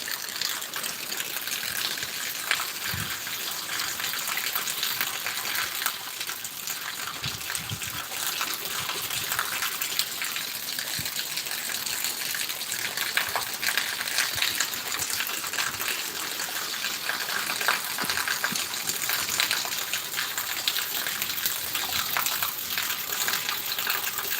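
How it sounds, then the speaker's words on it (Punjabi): Heavy rain pours in a Punjab village as water gushes along the road, a dense, steady hiss and rush that holds level throughout with no pauses. "ਵਧੀਆ ਮੀਂਹ ਪੈ ਰਿਹਾ"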